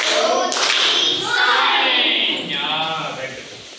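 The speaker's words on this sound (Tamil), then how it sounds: "ரைட்ல ராக்கெட் கைத்தட்டு பண்ணலாமா?" A school class of sixth graders does a rocket clap that sweeps from right to left: a rising run of quick hand claps builds and swells, then fades, and a voice is heard alongside it.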